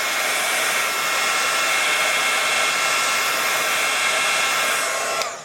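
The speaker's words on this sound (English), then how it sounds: "Give it a quick shot of heat to dry that." A heat tool blows hot air to dry craft paint on a Halloween ghost project, a loud, steady whooshing roar that runs unbroken for several seconds before cutting off abruptly.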